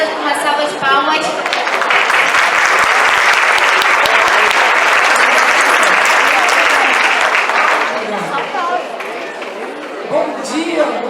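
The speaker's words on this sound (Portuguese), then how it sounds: "recebê-las com uma salva de palmas." Audience applause fills a health seminar hall in Búzios, a dense, loud, steady round of clapping lasting several seconds before tapering off, with some voices mixed in near the end.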